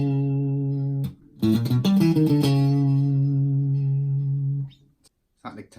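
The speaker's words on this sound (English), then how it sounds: "the next section begins with a little lick which both guys play in unison" Electric guitar plays a short, fast unison lick from a funk tune, loud and clean with effects. It opens on a held note, breaks into quick picked notes, lets a long note ring out and then goes quiet.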